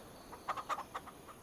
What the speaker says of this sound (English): Are you telling me them little baby chickens are making eggs?